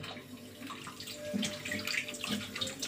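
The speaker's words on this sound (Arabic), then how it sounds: "هغسل ايدي بس عشان ما تمسكش كلها في ايدي" Tap water running into a kitchen sink while hands are washed during mashed potato preparation, a soft steady splashing stream with small irregular spatters, fairly quiet and close.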